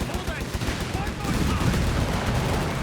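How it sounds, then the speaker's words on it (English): Machine gun fire in the Company of Heroes 3 strategy game, a dense sustained rattle of gunfire with battle noise under it, steady and fairly loud throughout. "unleashing the machine guns"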